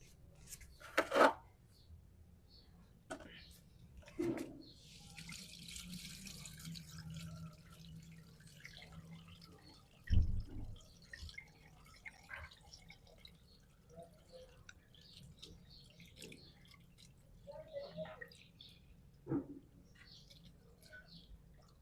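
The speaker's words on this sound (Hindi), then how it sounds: "अभी हम इसका जो पानी है ये उतारते हैं नितारते हैं" Water from a soaked mix of green vitriol and baking soda is poured off, with faint scattered drips and splashes, a soft trickle and a few sharper knocks of the vessel in a quiet room.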